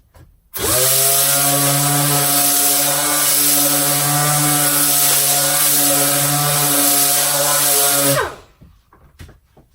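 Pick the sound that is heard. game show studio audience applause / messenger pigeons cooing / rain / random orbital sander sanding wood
random orbital sander sanding wood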